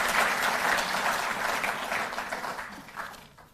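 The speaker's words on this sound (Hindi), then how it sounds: "जोरदार तालियां बजती रहें।" A hall audience applauds at a Delhi government ceremony honouring national sports players, a full round of clapping that starts strong and gradually fades out over a few seconds.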